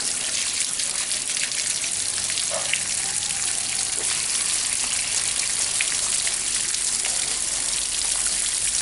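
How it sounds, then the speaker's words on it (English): Water splashes and trickles steadily out of the drainage holes at the bottom of a large bonsai pot holding a Premna odorata, a constant hissing patter with no pauses. "you have to ensure that the water is flowing at the bottom"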